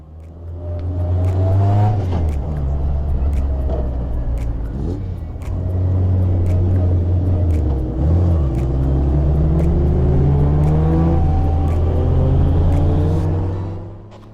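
A Formula Ford race car drives around the Snetterton track, its engine droning loudly with rising and falling pitch through gear changes and revs, heard from on board for the whole stretch.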